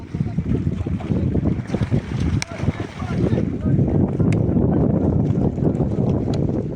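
Strong wind rushing and buffeting the microphone outdoors over a lake where fishermen are netting fish, with their voices mixed in.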